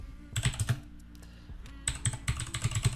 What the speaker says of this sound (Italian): dobbiamo digitare questo comando